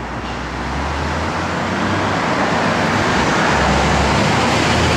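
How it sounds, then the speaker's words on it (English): A 1963 Chevrolet Bel Air on the road gives off a continuous low engine rumble and broad road roar that swells slightly and then holds steady, with no talking. "Shifts out good, drives out really nice."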